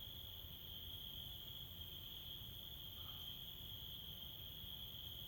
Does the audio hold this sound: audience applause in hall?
no